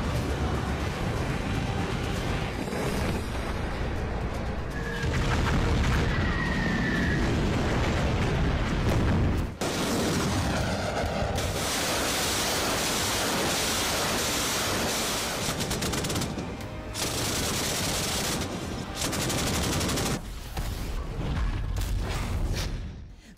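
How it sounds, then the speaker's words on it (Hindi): Tanks, multiple rocket launchers and artillery firing during a military exercise in a border area make a dense, continuous roar of booming blasts and rumbling, loud and sustained without a break, with no speech. "लगातार अपने टैंकों, एमबीआरएल और आर्टिलरी से बारूदी कोहराम मचा रहा है।"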